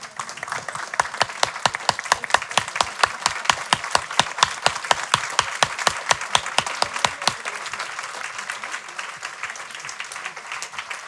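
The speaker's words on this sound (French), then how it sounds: "Donc encore, on va tous applaudir Christian." Audience in a lecture hall applauding as people stand, a dense burst of rhythmic synchronized clapping, loud and steady for several seconds, then loosening into scattered claps.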